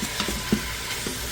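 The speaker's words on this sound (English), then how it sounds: "let that chicken sear off and let those shallots caramelize a bit" Chicken pieces and chopped shallots searing in a multi-cooker give a steady, even sizzle with a few soft stirring knocks, close and alone.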